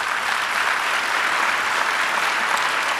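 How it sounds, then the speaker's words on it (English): A dense, even wash of audience applause at a Jewish Federations community event, loud and sustained throughout with no pauses or voices over it. "I don't know that I deserve applause."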